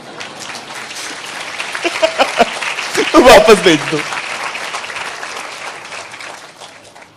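An audience at a Hindi religious talk breaks into a short burst of clapping that swells and fades, with a speaker's voice heard around it.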